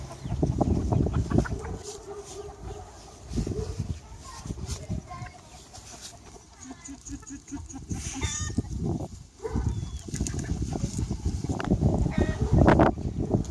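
Chickens on a farm cluck and squawk close by amid shuffling movement and other farmyard noise, while a person speaks at intervals.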